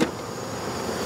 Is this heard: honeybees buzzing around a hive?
yes